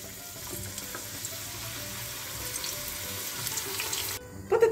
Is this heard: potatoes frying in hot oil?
yes